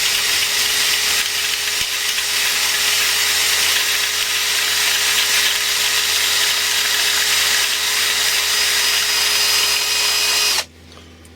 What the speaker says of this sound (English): I've got a little wire brush on the end of a drill